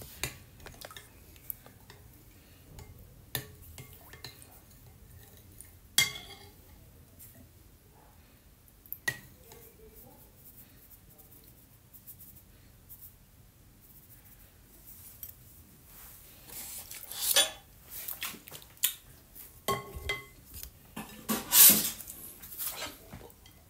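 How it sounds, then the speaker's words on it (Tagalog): Maja blanca ingredients being mixed with evaporated milk in a bowl, sparse light clinks and taps of a utensil against the bowl, growing busier and louder toward the end. "Mimix lang natin to guys."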